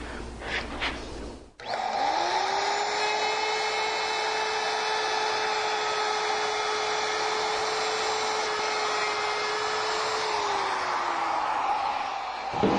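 A router fitted with a bearing-guided bit cuts wood for a knife caddy, starting with a click and spinning up to a loud, steady high whine that holds for about ten seconds before spinning down.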